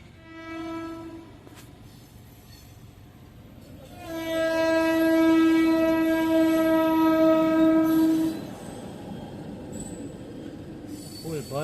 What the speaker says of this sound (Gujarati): ટ્રેન આવી ગઈ છે નજીક